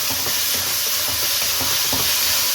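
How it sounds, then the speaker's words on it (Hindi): Minced meat keema sizzles and fries with onions in a pan, a loud steady hiss with rhythmic scraping strokes of a spoon stirring through it, no voices. "कीमे को मैं प्याज के साथ भून रही हूँ"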